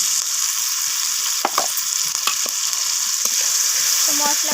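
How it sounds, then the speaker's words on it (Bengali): Ground turmeric, red chilli and cumin powders sizzle steadily in hot oil for a potato curry, with a few soft scrapes and knocks of a spoon stirring the pan, close and continuous with no talk. "তো সমস্ত কিছু মশলা এইভাবে নাড়াচাড়া করে একটু ভেজে নিচ্ছি"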